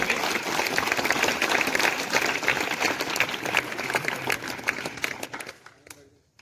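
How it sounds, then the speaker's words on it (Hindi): School audience of students and parents at a parent-teacher meeting clapping to welcome the principal onto the stage, steady dense applause for several seconds that fades out near the end. "तालियों के साथ स्वागत करेंगे"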